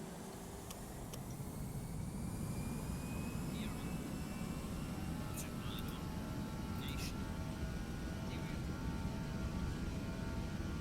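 Simulated Airbus A320 jet engines roar at takeoff power in Microsoft Flight Simulator X, a steady broadband rumble with a faint whine that holds evenly throughout.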